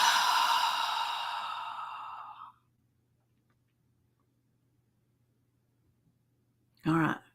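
Someone exhales slowly in one long, steady breath that fades out over a couple of seconds, followed by quiet and then a brief, louder breathy sound.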